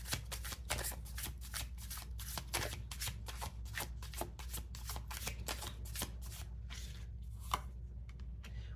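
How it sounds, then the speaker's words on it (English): Tarot cards are shuffled by hand in a rapid run of crisp riffling bursts at close range, with no one talking. "Let me reshuffle that."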